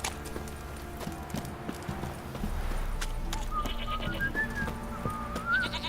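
Horse hooves clip-clop steadily in The Witcher on Xbox One, a continuous rhythmic trot under faint ambient game sounds, with an occasional soft whinny and background animal bleats.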